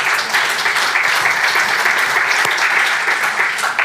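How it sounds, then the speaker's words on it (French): Audience applause at an innovation awards ceremony opening, a continuous, even wash of clapping from a seated crowd that holds steady throughout. "Je pense que ça mérite déjà un applaudissement juste pour le..."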